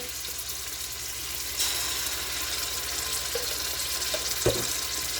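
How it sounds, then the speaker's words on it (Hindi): Ginger garlic paste frying in a pot for a boneless chicken handi, giving a steady, close sizzle that runs the whole time, with a couple of faint stirring knocks and no talk. "थोड़ा सा हम इसको फ्राई करेंगे।"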